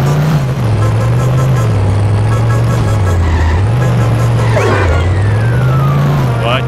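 A car in The Simpsons Hit and Run drives steadily with a loud, wavering engine drone that rises and falls as it accelerates, with brief skids and effects layered over the top.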